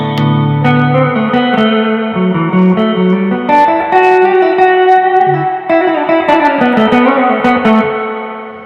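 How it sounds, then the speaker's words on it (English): Sustained electric guitar chords through a Fender Hot Rod Deluxe 40W amp with Jensen speaker, reverb at maximum, notes smearing and washing together into a dense, cavernous echo that rings on continuously. "if I crank it all the way up, it's ridiculous. There's so much reverb."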